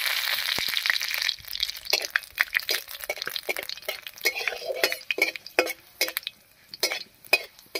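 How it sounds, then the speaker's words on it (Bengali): One dried red chili and a spoonful of panch phoron crackle and spit in hot mustard oil in a karai, with loud bursts of sizzling popping and metallic clinks of a spatula against the pan. "তেল গরম হয়ে গেছে, তেলের মধ্যে দেব একটা শুকনো লঙ্কা, আর দেবো 1 চামচ মতো পাঁচফোড়ন।"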